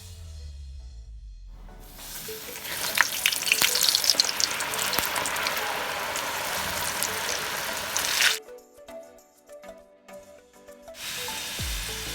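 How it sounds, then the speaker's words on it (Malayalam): Potato wedges fry in coconut oil, a loud, steady crackling sizzle for several seconds that cuts off abruptly, followed by quieter clatter of a utensil against the pan. "നമ്മളെല്ലാം വറുത്ത് കഴിഞ്ഞു"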